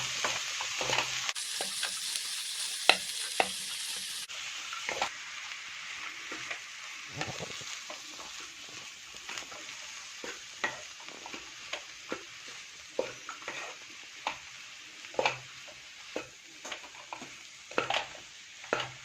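Mashed potato being stirred into vegetables in a pan, with a soft continuous frying hiss under repeated scraping and tapping strokes of a spatula, steady and close, without speech.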